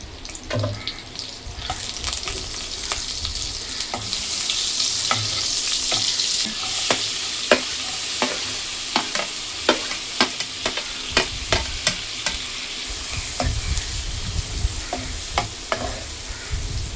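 Chopped onion fries in butter in a pan for pav bhaji, giving a steady close sizzle broken by a run of sharp spatula clicks and scrapes as it is stirred, with no one talking.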